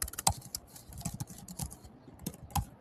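Someone types an email address on a computer keyboard, producing a run of close, irregular key clicks with brief pauses between bursts and no voices.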